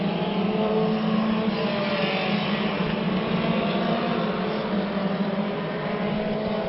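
Mini stock race cars roaring around Orange Show Speedway during a 100-lap main event, a dense, continuous engine drone from several cars at once with shifting pitch, loud and unbroken, no voices.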